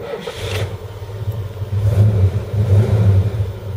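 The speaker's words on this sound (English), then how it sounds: "the starter motor is getting a bit warm now because it's having trouble cranking" Starter motor of a 1978 Ford LTD struggling to crank the engine, a low laboured rhythmic churning that sags and surges over several seconds, close and loud, with no talking.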